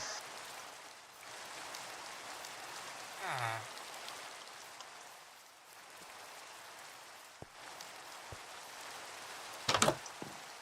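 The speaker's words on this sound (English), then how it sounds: "we continue onwards in the horrible, horrible rain" Steady Minecraft rain patters and hisses on surfaces throughout, with a brief sliding tone, a few faint knocks and a sharp clatter near the end.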